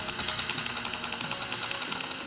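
Rapid automatic gunfire spray from a weapon in the mobile shooter game PUBG Mobile, a dense continuous stream of fast shots at steady loud level, close and unbroken across the clip.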